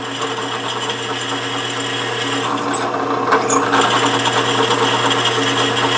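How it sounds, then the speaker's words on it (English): An electric drill whines steadily through a tapped hole in a metal hand-piece for a homemade hand engraving machine, a constant close-up grinding hum with a brief shift in pitch midway as the bit breaks through. "Now you got to watch when this breaks through, it can pull your drill"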